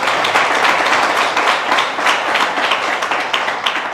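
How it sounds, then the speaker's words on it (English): A warm round of applause fills the room at an academic high tea event with a university vice-chancellor, steady clapping from an audience sustained at close range throughout with no voices over it. "Wow, a warm round of applause"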